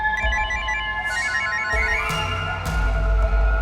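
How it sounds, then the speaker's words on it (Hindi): A phone ringtone plays in a Hindi TV crime drama scene, a steady repeating electronic melody over a low background hum, with no one speaking. "मॉम, प्रीतम सर का फोन।"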